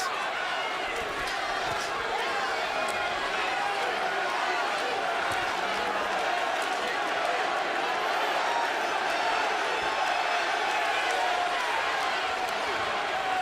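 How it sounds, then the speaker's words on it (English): A boxing arena crowd roars steadily throughout, a dense unbroken wall of cheering urging on Kelly Pavlik in his fight against Sergio Martinez. "The crowd senses that Pavlik is getting himself back into the fight, and they're trying to help him get there."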